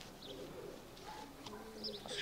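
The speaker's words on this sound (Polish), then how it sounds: "Tak wygląda gołąbek." Pigeon cooing softly, with faint low coos and a few brief chirps over quiet background noise, distant and muted.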